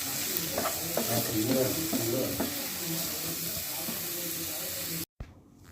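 Green chillies and coriander leaves sizzle in a hot pan for a fish egg curry, a steady frying hiss with stirring scrapes, close and loud, cutting off abruptly near the end.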